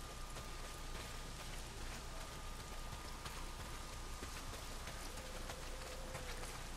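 Heavy rain pours in the game Days Gone, a dense, even hiss of drops filling the whole stretch without pause, steady and moderately loud with no voices.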